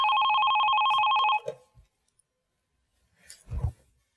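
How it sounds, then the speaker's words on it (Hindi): A telephone rings with an incoming call, a steady two-tone electronic trill lasting over a second, followed by a click as it is picked up, brief silence, and a faint voice. "इस वक्त किसका फोन आ गया?"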